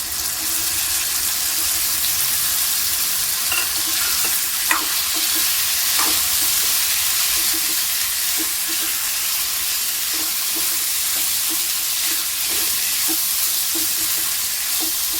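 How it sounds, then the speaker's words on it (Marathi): Cluster beans and potato pieces fry in hot oil with a steady, close sizzle throughout, broken by occasional stirring clinks and scrapes, and no talking. "गवार आणि बटाटा आपण तेलामध्ये परतून घेऊया 2 ते 3 मिनिटं."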